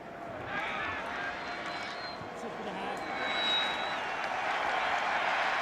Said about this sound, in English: this crowd applauds on their feet in Austin with their Longhorns on top 24-3